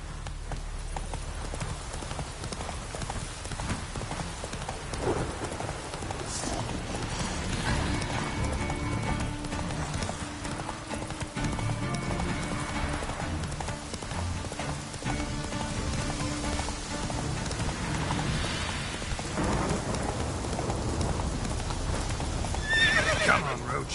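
Roach, the horse in The Witcher 3, gallops through rain in steady hoofbeats, with a whinny, rain pattering throughout and a voice speaking briefly over it.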